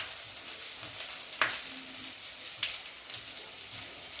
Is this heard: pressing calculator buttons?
no